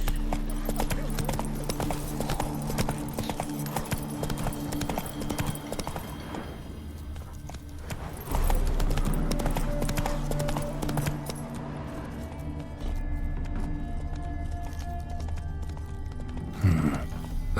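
Roach the horse gallops in The Witcher 3, a continuous rhythmic clip-clop of hooves running throughout, with a brief whinny-like burst near the end.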